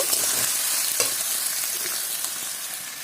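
Coconut chicken stirred in a frying pan, a loud close sizzle with soft scraping stirs, easing slightly toward the end.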